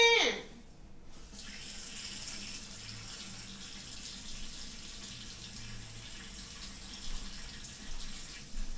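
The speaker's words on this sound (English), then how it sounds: "Wash your hands. Just wash your hands." Steady water runs from a tap into a sink during handwashing, a continuous moderate hiss with no voices over it.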